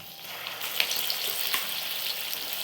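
Mango tokku paste sizzles and fries steadily in plenty of hot oil, a close, continuous crackling hiss with small pops throughout.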